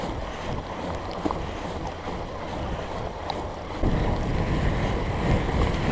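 A Surly Moonlander fat bike rolls through a water crossing on a wet, windy night trail, steady wind and water rush filling the whole stretch, swelling louder over the last two seconds as the tires push through.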